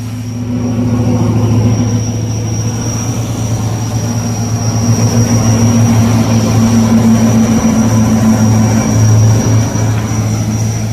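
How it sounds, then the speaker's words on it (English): Steady, loud drone of a plane passing overhead outdoors, a continuous low rumble with a faint high whine holding throughout with no talking. "I think that's a regular plane."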